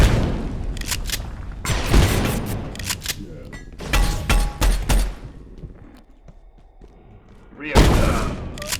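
Heavy gunfire in the game Abiotic Factor, loud close bursts of shots and booming impacts in clusters separated by quieter gaps, with a final burst at the end.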